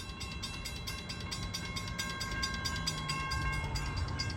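CSX M507, a southbound freight on the old B&O line, rolls steadily past at a crossing with the gates down, its continuous rumble and rail noise holding close and loud throughout with no talk.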